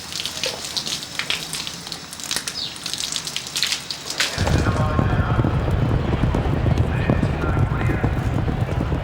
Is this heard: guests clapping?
no